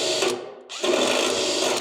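A drill with a step bit boring a hole during a hood hinge install on a 1965 Chevrolet C10 truck, a steady high whir that briefly cuts out, then resumes at full strength.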